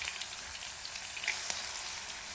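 Sliced eggplant sizzles steadily as a large batch is dropped into hot cooking oil, a dense, even crackle with small pops running throughout at close range.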